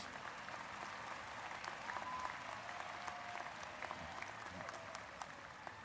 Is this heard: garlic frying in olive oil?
no